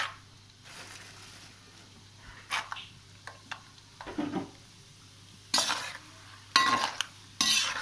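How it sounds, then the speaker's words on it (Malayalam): Chickpeas are stirred and fried in a pan, with quiet background sizzling broken by several sharp scraping and clattering bursts from the spoon against the pan, close and intermittent. "കടല നന്നായി വറുത്തെടുക്കാം."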